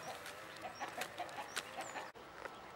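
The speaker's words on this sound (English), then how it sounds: "Just wondering what my chickens are going on about." Chickens in a garden make a faint, rhythmic run of soft clucks, repeated about every fraction of a second at a distance and then fading out.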